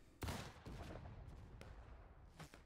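Musket volley in the Civil War battle game War of Rights: a sudden burst of overlapping rifle shots, then a few scattered follow-up cracks over a short, mid-distance span.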